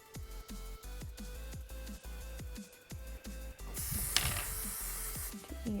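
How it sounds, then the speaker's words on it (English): Hairspray is sprayed onto bangs during a holiday hair routine. A row of quiet rhythmic ticks gives way to a close, sustained aerosol hiss in the second half. "give my bangs a little bit of a spray"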